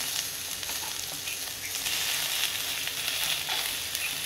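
Onion and green chili fry in oil as tomato goes into the pan, a steady loud sizzle hissing without a break and no voice over it.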